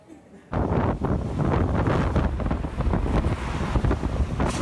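Strong, roaring wind gusts from Typhoon Mangkhut in south China buffet the microphone in a loud, continuous rush after a brief quieter start, with turbulent surges throughout.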